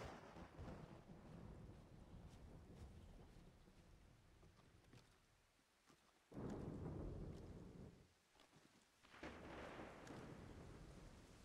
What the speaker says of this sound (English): I really hope this rain isn't messing up the uh, thing.